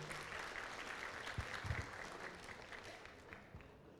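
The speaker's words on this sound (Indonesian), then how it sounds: "Beri tepuk tangan yang meriah untuk kita semuanya." An audience at an Islamic religious lecture gathering applauds, a dense, steady patter of many hands clapping at moderate distance that fades slightly toward the end.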